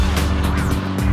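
A turbocharged car cruising at around 100 mph, its engine a loud, steady roar with continuous road and wind noise filling the short stretch without a break.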